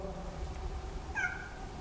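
A single short cat meow sounds in an old fort, a fairly clear mid-pitched cry over a low background rumble, with no talking.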